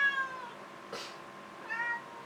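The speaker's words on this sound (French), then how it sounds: "Ime, tu casses tout à miauler." A cat meows close by, two separate mewing cries about a second apart with a quieter squeak between them, in a flat there are many cats in.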